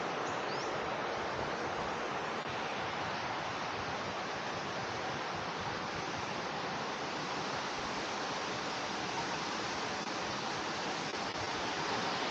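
Steady, full broadband rush of water pouring down a waterfall into an emerald pond at a secret waterfall in Thailand, continuous and close with no pauses or voices.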